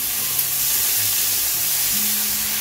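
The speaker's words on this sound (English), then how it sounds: "I'm using the same pan, and I'm going to add 2 pounds of ground beef" Two pounds of ground beef sizzling in a hot pan still greasy from cooked bacon, a steady broadband frying hiss heard close up with no voices.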